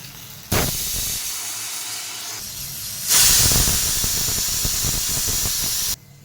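A pressure cooker of rajma gravy lets off steam in a sustained hissing whistle. It begins abruptly, swells louder midway, then cuts off sharply after several seconds, with no one talking.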